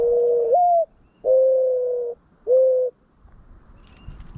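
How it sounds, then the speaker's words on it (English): A wood pigeon gives a coo call: three loud, close, sustained hooting notes, the first rising slightly, separated by short pauses, then faint background noise. "a dove just shows up, looks at the camera, does a call?"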